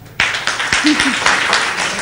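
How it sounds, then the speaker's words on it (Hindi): Schoolchildren clap together in a classroom in Bareilly, a short burst of distinct sharp hand claps close by, with a brief voice amid them. "वेरी गुड, तालियां एक बार।"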